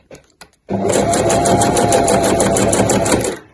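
Sewing machine stitching the side seams of a weekender bag, a steady fast mechanical whirr running for about three seconds after a couple of light clicks.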